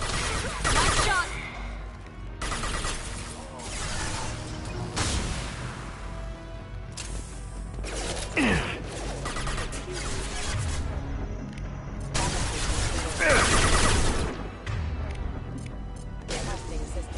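Gunfire in Mass Effect 2 aboard the Collector ship, with sharp, loud shots and bursts arriving in clusters and separated by short pauses, plus crashes and impact sounds in between.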